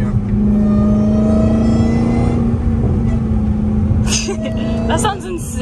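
A Dodge Hellcat Redeye with a new cold air intake revving under load, a loud steady engine drone with a high whine riding on it, heard from inside the car, easing off near the end as faint voices come in.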